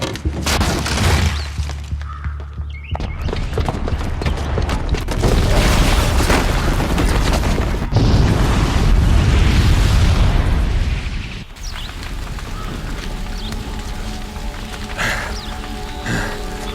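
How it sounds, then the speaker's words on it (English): A booby-trapped bomb goes off in Horizon Zero Dawn, a loud boom with crashing, shattering debris rolling on for several seconds, then a second burst and a lower, rumbling tail. "the booby trap on the bomb downstairs is gonna get set off"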